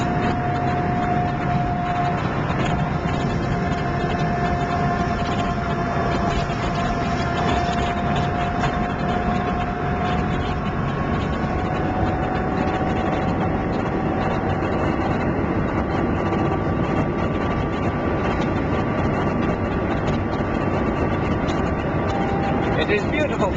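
An NSU Ro80 hums steadily while driving on country roads, with a continuous even engine drone and road noise holding at a constant level.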